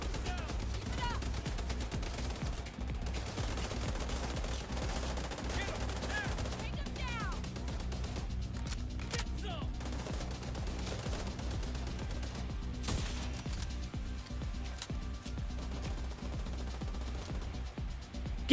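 Rapid automatic gunfire and scattered single shots in the online shooter The Division 2 crackle through a continuous game soundscape, with a player's voice talking over parts of it.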